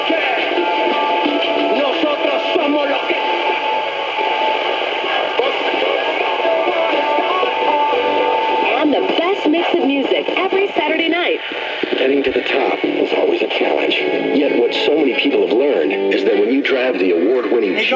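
A vintage 1960s/70s AITC solid state AM/FM/VHF/SW table radio plays a broadcast continuously and fairly loudly, with a brief dropout near the middle where the signal cuts out.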